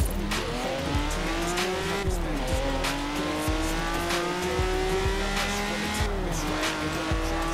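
Honda NSX-R in Forza Horizon 4 accelerating hard, its engine note climbing through gear shifts with tire squeal, loud and continuous with no talking.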